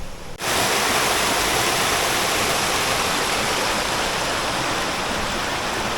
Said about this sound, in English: So far, nothing but tiny little cascades